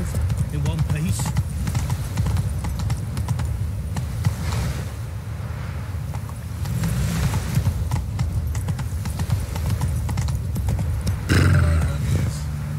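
Clip-clop hooves of Roach, the horse in The Witcher 3 video game, trotting in a rhythmic beat with occasional neighing and whinnying, while characters talk over the hoofbeats.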